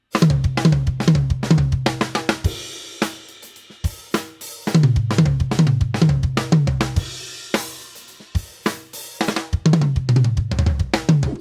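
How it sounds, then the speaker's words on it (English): A drum kit playing the Ruff fill with bass drum kicks replacing the last left-hand stroke of each grouping, in repeated rapid bursts of sharp hits separated by short gaps, loud and close. "for this fill, the Ruff, we're gonna switch the last left stroke of every grouping to the bass drum instead."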